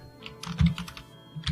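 Keys clatter on a computer keyboard as Python code is entered, a short, close burst of several quick, uneven clicks with a brief pause before a final tap.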